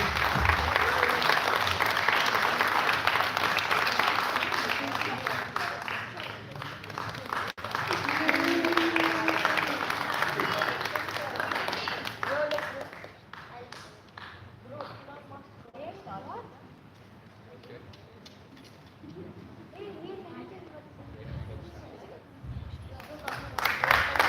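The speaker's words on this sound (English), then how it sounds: "A round of applause, please." Applause from an audience at the final day of a residential astronomy space camp, loud and sustained at first, then thinning and fading before picking up again, with some talk mixed in.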